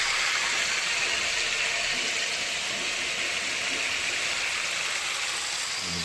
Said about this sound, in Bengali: এই দেখুন, মোচা সেদ্ধ করে নিচ্ছি।